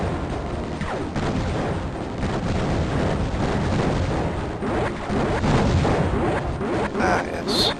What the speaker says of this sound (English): Bombs take care of the little mine things there, too.